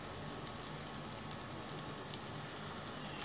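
Garlic, spring onions, bell peppers and carrot sautéing in oil and butter over medium-high heat in a pan, giving a steady, continuous sizzle and crackle throughout with no talk.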